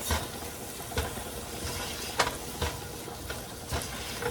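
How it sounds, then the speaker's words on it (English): Tomatoes cooking down in a pan on the stove give a steady soft sizzle, with a few sharp scrapes and taps of stirring every second or so, close up and with no talk. "Help those tomatoes cook down a little bit."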